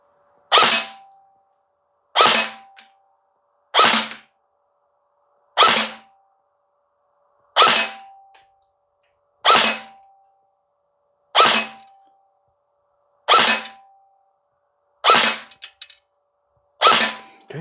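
Ten sharp semi-auto shots from a BARRA Black Ops M4 Viper MK5 AEG airsoft rifle at an outdoor target range, each a crisp close snap with a short mechanical tail, spaced about 1.5 seconds apart with no talking.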